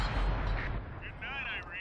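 Tank cannon fire at a German tank in a World War II tank video game, a loud booming blast with heavy low rumble that rolls and decays, with a voice speaking over the noise.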